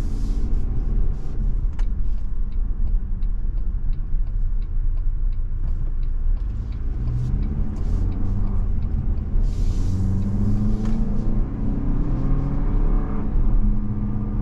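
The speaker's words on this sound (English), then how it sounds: "you're probably going to get better gas mileage with this Turbo 4 than the V6." A 2023 Toyota Highlander Platinum AWD with a turbo four engine accelerates from inside the cabin, a steady low rumble with rising engine tones and road noise, heard alone without talk.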